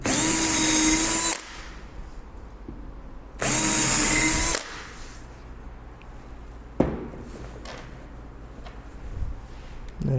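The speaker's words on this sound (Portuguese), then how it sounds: "Já para o conector VB, a gente precisa fazer uma furação com a broca de 5 milímetros." A power drill with a 5 mm bit boring a hole for a connector: two loud, steady whirring bursts of about a second each, separated by quieter handling knocks and clatter.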